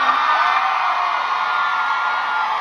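Live crowd at a show in Atlanta cheering and whooping in a steady, dense roar that holds loud and continuous throughout.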